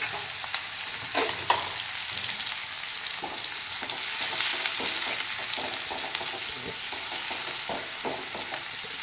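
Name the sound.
chopped onions frying with cumin in a pan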